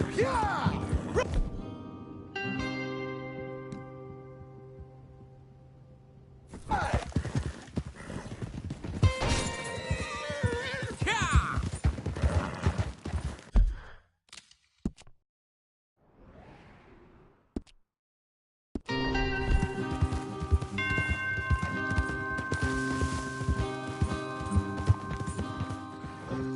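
Horses in the Red Dead Redemption 2 video game neigh and whinny amid clip-clopping hooves, whooshes and crashes over a music score, loud and busy, broken by a few near-silent gaps.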